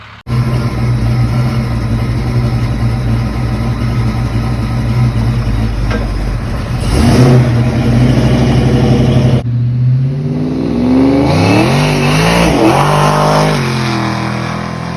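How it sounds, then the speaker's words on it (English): A Fox body Mustang with a Keith Craft 306 engine, Vortec blower and C4 transmission revving loudly up close, a steady rumbling idle broken by sharp throttle blips and rising whines. "That was a Keith Craft 306 with a Vortec blower on it and C4."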